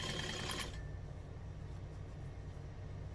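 A sewing machine stitches a fold-over clutch with a brief rapid burst of needle chatter at the start, then settles into a steady low mechanical hum that runs on alone.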